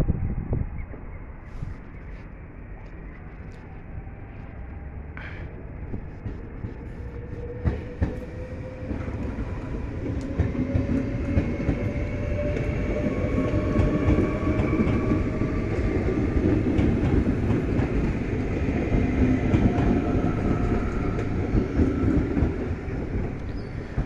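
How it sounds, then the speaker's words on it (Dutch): A Firm M train, the last of the day, pulls away with rolling wheel rumble and rhythmic clatter that builds steadily, with faint squeals and tonal whines over the rails and no talk. "zoals jullie zien gaat de mooie firm M vertrekken. De laatste trein ook voor vandaag"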